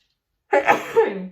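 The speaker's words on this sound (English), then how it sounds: "So I'm going to sneeze." A single short sneeze-like burst, close and loud, after a brief silence.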